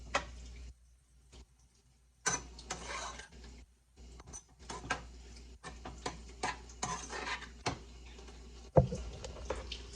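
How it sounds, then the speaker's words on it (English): Browning meat for spaghetti is stirred in a pot, giving faint, irregular scraping and clinking taps of utensil against cookware that continue throughout. "just stirring it to get it brown"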